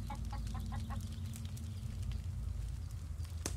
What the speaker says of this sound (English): I wish that rooster would shut up.